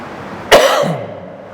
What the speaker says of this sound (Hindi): खांसी आई, कोरोना नहीं हुआ